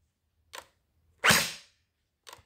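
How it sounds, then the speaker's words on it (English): Hydro Strike Pulsar Pro gel blaster fired in semi-auto, one sharp, loud pop with a short hiss of air after it, framed by two fainter mechanical clicks, with nothing else heard. "This is how it sounds in semi-auto."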